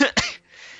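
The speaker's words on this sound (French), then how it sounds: "excusez-moi de tousser" A single short cough, close and fairly loud, two quick bursts followed by a faint trailing breath.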